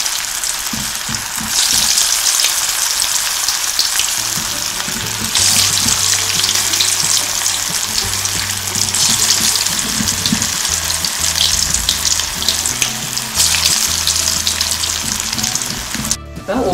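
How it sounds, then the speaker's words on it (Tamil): Banana flower gola balls deep-frying in hot oil over a medium flame, a steady broadband bubbling sizzle that holds at close range throughout, with faint kitchen clatter underneath. "ஃபிளேம்ல வச்சு நம்ம ஒவ்வொன்னா போட்டு பொரிச்சு எடுத்துக்கலாம்"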